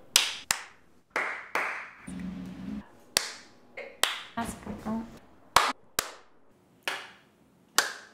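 Hands clap in front of a face in single sharp claps, spaced about half a second to a second apart, close and dry. Brief talking can be heard between some of the claps.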